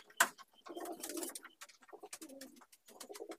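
Andhra pigeons coo in a loft, a steady run of soft low coos with a short sharp burst near the start, close and fairly quiet.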